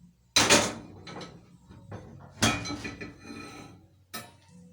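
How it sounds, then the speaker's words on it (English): A cooking pan goes onto a preheated cooker in a home kitchen with three sharp metallic clanks and some smaller rattles and knocks between them, close and fairly loud. "so I'm just going to put in my pan."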